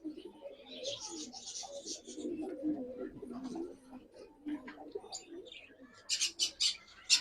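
Pigeons in a loft coo in low, throaty bursts, layered with scattered chirps and brief squawks, with a sharper flurry of calls near the end.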